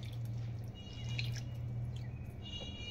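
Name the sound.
water poured off soaked sabudana pearls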